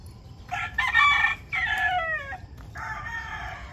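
A gamefowl rooster crows loudly and close by in a backyard, giving two long calls in quick succession and then a shorter third crow.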